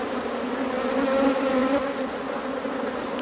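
Honeybees swarm loudly around an open hive box with the frames pulled out, a dense, steady buzzing close by and heard alone.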